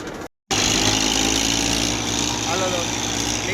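A tractor engine runs steadily and loud nearby, a dense continuous rumble and drone that starts after a brief cut to silence near the beginning.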